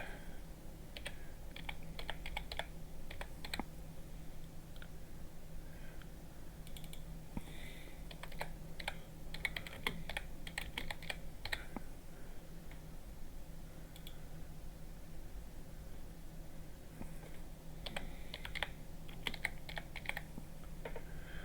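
Steady run of computer-keyboard typing as card names are entered, with clustered bursts of key clicks over a low constant hum, close and fairly quiet, no voices.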